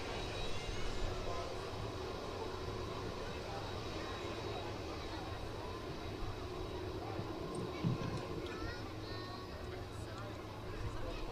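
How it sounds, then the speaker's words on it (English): Boeing 747 G-VROM taxiing at Manchester Airport, a steady low engine drone heard from a distance under constant background noise, with a brief thump near the end. "So the aircraft's just on its taxi now"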